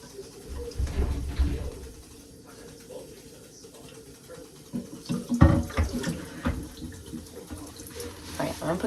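Cold water runs from a tap into a sink, a steady splashing stream with louder bursts as the flow hits the basin and something in it, while birds coo faintly in the background.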